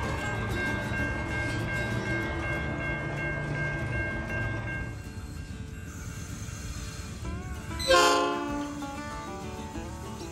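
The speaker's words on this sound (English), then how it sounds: "As you can see, the 82 class is coming on the main line." An 82 class diesel locomotive hauling a ballast train rumbles along the main line, a steady close drone that eases midway, followed by a brief loud horn blast near the end.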